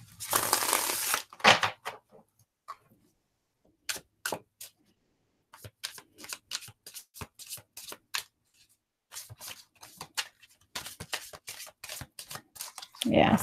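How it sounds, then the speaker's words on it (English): A new, slick Tarot Del Fuego deck is shuffled in bursts of quick, close papery riffles and snaps, broken by pauses and a voice in places. "I don't normally shuffle with a camera sitting between my wrists"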